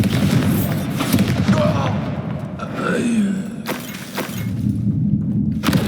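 A Confringo blasting spell goes off in Hogwarts Legacy combat against trolls, with booming, crashing blasts and thuds over a dense din of battle effects and game voices.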